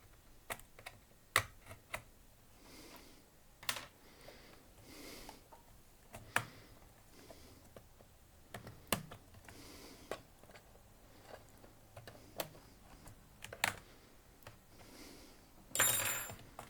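Typing on a laptop keyboard during a teardown session, with scattered bursts of key clicks and taps at close range, irregular rhythm, and no speech.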